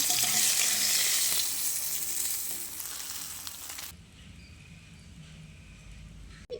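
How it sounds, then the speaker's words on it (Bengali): A second batch of rohu fish pieces fries in hot oil with a loud, steady crackling sizzle. About four seconds in, the sizzle abruptly drops to a much quieter background. "দ্বিতীয় ব্যাচের মাছগুলোকে দিয়ে ভেজে নিচ্ছি"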